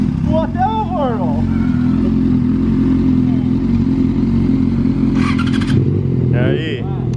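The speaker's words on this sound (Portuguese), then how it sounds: "Vai, liga o motor." A Yamaha XJ6 and a Honda Hornet motorcycle run steadily throughout, their engines droning and revving in short bursts while people talk over them.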